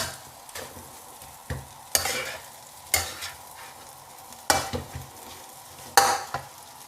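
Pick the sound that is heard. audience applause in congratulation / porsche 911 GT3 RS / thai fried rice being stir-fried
thai fried rice being stir-fried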